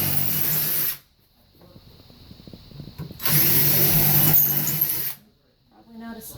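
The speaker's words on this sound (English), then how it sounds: "Now we're going to pre-drill our holes into this back board" A power drill bores pilot holes into a back board for a bathroom sink install, whining loudly in two bursts of about a second and two seconds, with quieter handling noise and knocking in the pause between.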